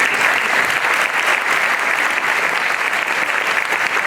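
A large audience at a Hindi comedy poetry show claps in sustained, dense applause, loud and continuous throughout with no speech over it.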